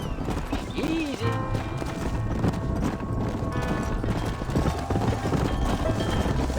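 Horses clip-clop steadily across the ground in the western video game Red Dead Redemption, the hoofbeats close and continuous, with a brief whinny near the start and game speech and ambient sound running underneath.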